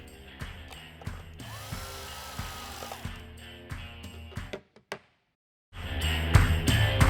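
Screws are fastened back into a Stryker ST crossbow receiver, making rhythmic ratcheting clicks that stop briefly in a silent gap and then resume louder.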